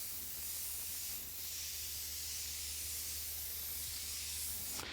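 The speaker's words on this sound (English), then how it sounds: "So basically, if I can spray and it comes out pretty sharp and pretty clean," An airbrush sprays paint in a steady, close hiss that runs almost unbroken, with a faint low hum underneath and a brief sharper burst at the very end.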